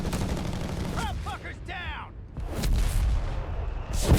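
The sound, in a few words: airburst artillery shells in video game Company of Heroes 3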